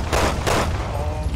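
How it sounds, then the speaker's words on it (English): Gunfire in the video game Resident Evil 6, two quick loud bursts of shots close together, then a fading rumble. "I'm trying to shoot him."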